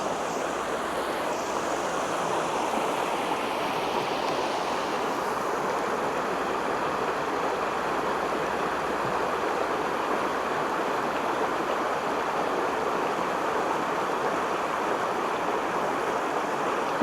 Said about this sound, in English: All this noisy water.